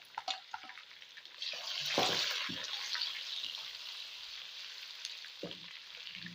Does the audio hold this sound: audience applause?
no